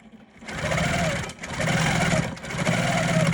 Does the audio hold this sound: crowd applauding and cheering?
no